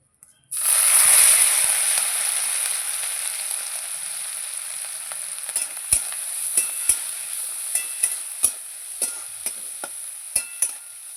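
Small shrimp (kucho chingri) dropped into hot oil burst into a loud, bright sizzle that settles into a steady fry, with sharp spatula taps and scrapes against the pan through the second half.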